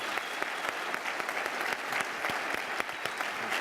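A gala dinner audience at a public policy forum breaks into warm, sustained applause for two guests, with dense, even clapping that holds steady at moderate volume from start to finish.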